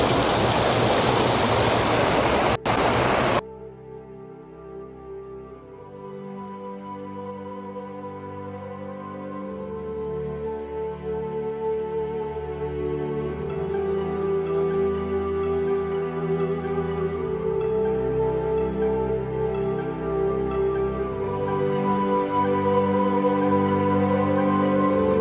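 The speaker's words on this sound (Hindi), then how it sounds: "देखिए जंगल के बीच में है ये नदी" A deep, green river rushes steadily through a forest stream near Darjeeling, its broad watery roar continuous and fairly loud, swelling slightly over time with a tonal layer riding above it.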